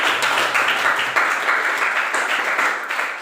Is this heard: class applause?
yes